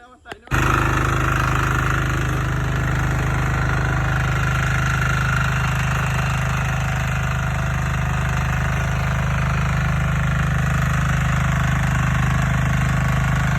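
A tilling machine engine plowing a field runs as a loud, steady mechanical drone that kicks in after a brief pause and holds unbroken to the end, with no talk over it.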